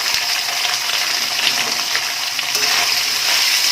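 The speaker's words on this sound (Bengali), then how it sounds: "এবং ভালোভাবে এটাকে এখন ফ্রাই করছি" Boiled, salted soya chunks fry in hot oil in a pan, a continuous loud sizzle and hiss with occasional stirring scrapes, up close and unbroken.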